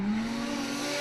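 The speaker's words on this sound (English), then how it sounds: "Not only is that rotary singing" A rotary-engined drift car screams past at speed during a drift competition, its high engine note climbing steadily as one continuous tone, somewhat distant and fairly quiet.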